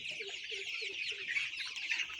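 Sonali chickens about 33 days old, kept on a poultry farm, cluck in a steady, busy chorus of overlapping calls close by, with no talking.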